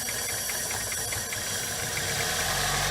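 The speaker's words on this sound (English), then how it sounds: "Your engine's going to want to run rough." A car engine running rough while Gumout intake cleaner is fed through it, a steady, loud mechanical drone with faint rhythmic knocking and hiss, with no voices.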